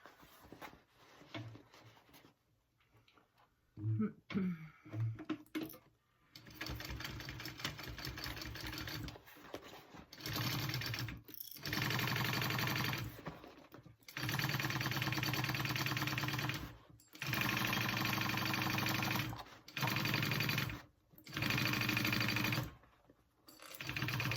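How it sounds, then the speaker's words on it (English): A sewing machine stitches a seam on a tote bag in a series of steady whirring runs separated by brief stops, near and fairly quiet, after some soft handling sounds at the start. "I'm going to start at the 1/2 inch mark and sew along there and stop at the 1/2 inch mark"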